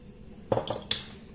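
Spoon mixing a plain yogurt sauce with salt and pepper in a bowl, a few quick clinks of metal against the dish after a short quiet pause.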